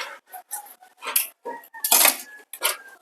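A spoon and dishes such as bowls and plates being washed by hand, heard as close, irregular clinks and scrapes of metal against crockery, in short bursts separated by brief pauses.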